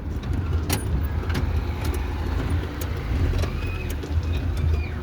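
A car slowly reversing into a parallel parking space between two parked cars on a street, its engine a low steady hum with faint clicks and a few birds chirping nearby.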